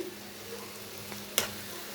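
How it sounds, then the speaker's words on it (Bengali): A flattened-rice (chira) cutlet frying in oil after being flipped, a quiet even sizzle with one brief sharp scrape partway through. "এখন আমি উল্টিয়ে নিচ্ছি কাটলেটটা আমার ভাজা হয়ে গেছে এক পিঠ"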